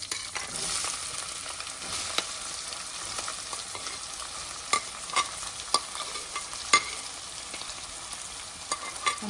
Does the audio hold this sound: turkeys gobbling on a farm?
no